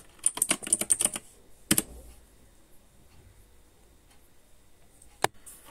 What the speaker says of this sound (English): Now type ./ and paste the file name and type